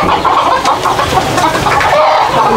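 Native desi chickens cluck and chatter continuously in a coop on a rooftop farm, several birds close by with overlapping clucks and no talking.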